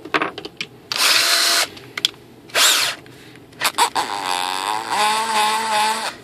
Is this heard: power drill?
yes